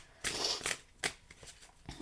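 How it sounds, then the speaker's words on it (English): Tarot deck being shuffled by hand, a few crisp riffling bursts and short papery flicks in quick succession, close to the listener with no speech. "I need more shuffles here"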